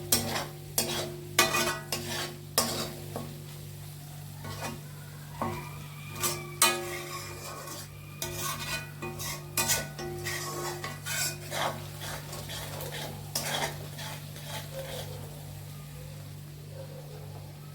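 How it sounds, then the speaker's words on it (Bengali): Mutton frying in green chili paste while being stirred steadily in a pot, with repeated sharp scrapes and knocks of a spoon against metal over a soft sizzle and a constant low hum. "তো এটাতেও আমি একটু ভেজে নেবো ভালো করে যতক্ষণ না পর্যন্ত কাঁচা গন্ধটা চলে যায়।"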